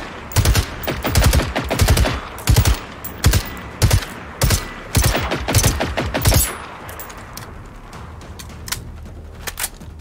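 Rapid bursts of gunfire in the video game Generation Zero, loud and close, coming in repeated volleys over several seconds before tapering into scattered faint shots.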